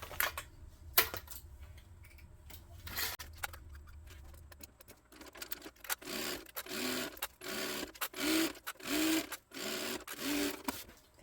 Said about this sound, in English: And we're going to sew for the seam allowance in the pattern.